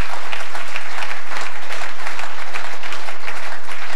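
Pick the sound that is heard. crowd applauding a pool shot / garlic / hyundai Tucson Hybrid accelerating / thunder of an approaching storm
crowd applauding a pool shot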